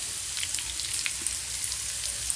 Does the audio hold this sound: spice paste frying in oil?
yes